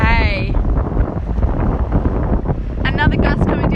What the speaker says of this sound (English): Another gust coming down the course.